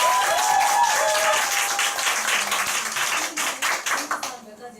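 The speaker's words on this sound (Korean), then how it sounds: "우리 김건우 사장님께 감사의 박수" Audience at a Nu Skin business gathering breaks into sustained applause of thanks for a company executive, dense clapping that carries loud and steady before thinning out at the end.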